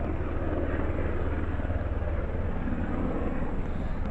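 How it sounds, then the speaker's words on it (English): An airplane passes overhead in London, a loud, continuous low roar that fills the scene evenly and steadily with no voices over it. "Can you hear that plane?"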